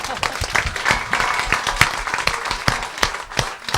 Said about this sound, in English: This is the time for your applause, yes.